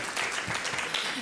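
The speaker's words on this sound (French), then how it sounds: "On peut déjà applaudir le Saint-Esprit" A church congregation briefly applauds during a French-language service, a short burst of dense, fairly faint clapping with no talk over it.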